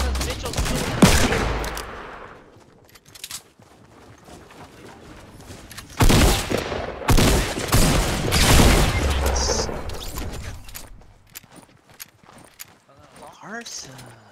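Bursts of video game gunfire, including machine-gun volleys and booms, arrive in clusters with quieter gaps between them, mixed with footsteps and frequent voices talking over the action.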